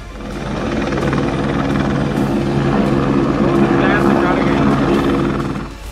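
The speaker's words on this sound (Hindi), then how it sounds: "चक्री के गांव लादिया में सैलाबी पानी में फंसे एक खानदान को हेलीकॉप्टर से रेस्क्यू किया गया।" A rescue helicopter flies close and loud over monsoon floodwater in Punjab, its rotor making a continuous heavy thrum with a steady pulsing chop for the whole stretch.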